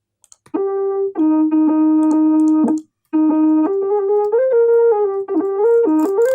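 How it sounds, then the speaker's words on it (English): A sample auto-tuned through The Mouth plugin holds steady notes in a stepped melody, with a short gap partway through and sharp robotic pitch jumps. "So it's sort of like auto-tuning the sample that I had."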